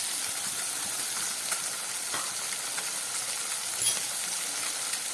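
Onion and tomato paste sizzles in a hot pan while cooking katla fish, a steady close hiss of frying with faint scattered crackles throughout and no voices.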